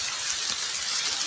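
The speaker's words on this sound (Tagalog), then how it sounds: "mas lumakas pa yung ulan" Heavy rain pours down in a steady, dense hiss with no breaks, loud and close.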